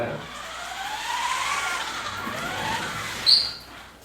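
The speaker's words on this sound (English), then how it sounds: "Move your car a little bit." A car rolls past with a steady engine hum and tire noise that swells and fades, ending in a brief sharp squeak.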